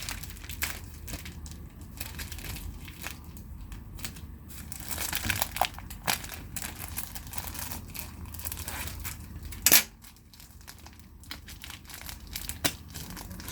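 Cross stitch product packaging handled and opened, with steady close crinkling and rustling of plastic and paper, one sharp louder crackle near the end, no talk.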